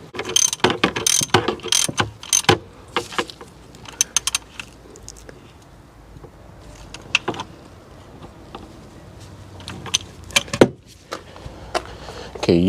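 A ratchet tightens the bolts on a BMW Vanos solenoid, sounding as quick bursts of clicking pawl strokes with metallic tool clinks and pauses in between, close up and without talk.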